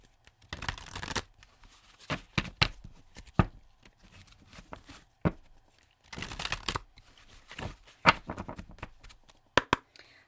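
Tarot cards being shuffled by hand in bursts of dry riffling and slapping, with short pauses between rounds, fairly close and quiet with no talking.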